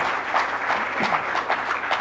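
A room of attendees claps loudly for Jharkhand Chief Minister Hemant Soren at an appointment-letter ceremony for community health officers in Ranchi, with dense, steady applause swelling in small bursts throughout.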